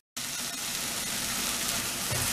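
Chopped tomatoes for vegetable Manchurian cook in a hot pan, giving a steady, soft sizzle that starts abruptly and holds evenly throughout.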